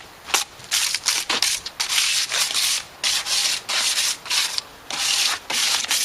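Belt sander run over wood before painting in a quick series of short, loud, close rasping passes, each a burst of abrasive hiss separated by brief gaps.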